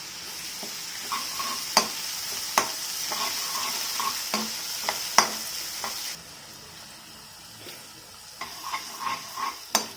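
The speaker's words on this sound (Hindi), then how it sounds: "इसे हमें अच्छे से फ्राई करना है 2 से 3 मिनट मीडियम फ्लेम पे।" Chopped garlic and curry leaves frying in oil over a medium flame for chicken lollipops, a bright continuous sizzle broken by sharp stirring clicks and scrapes, close up, with the sizzle quieting partway through.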